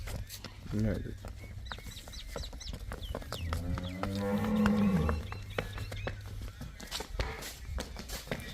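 Buffaloes at a farm kept for sale low once, long and near, while chickens cluck briefly nearby and someone talks over the scene.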